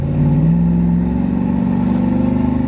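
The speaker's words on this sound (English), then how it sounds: "And as you can see now when you floor it" Dodge Ram pickup engine revving hard with the throttle floored, a loud, close, steady roar that climbs in pitch and holds, with a slight rough pulsing.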